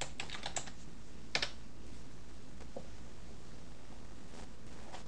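A password being typed on a computer keyboard, with quick clusters of light key clicks followed by sparse taps, close and fairly quiet over faint room hiss, with no voices.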